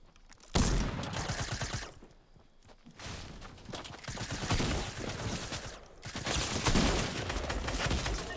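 Shotgun gunfire in a video game comes as loud bursts of booming shots separated by brief lulls, dense and close with no talking over it.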